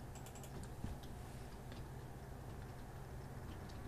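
PowerShell command keyed in on a computer keyboard: faint, quick key clicks clustered early, then sparse taps over a steady low hum, quiet and close.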